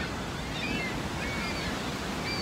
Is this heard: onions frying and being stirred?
no